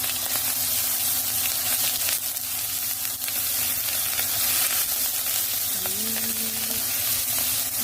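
Onions sizzling in a pan alongside garlic for stir-fried young pumpkin, a steady broadband hiss heard up close with a faint tonal hum beneath and no voices.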